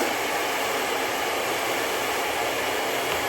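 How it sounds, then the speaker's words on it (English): Hair dryer blowing continuously at close range during an at-home keratin smoothing treatment, a steady loud rushing whoosh with no pauses or voices. "blow dry in all directions to make sure"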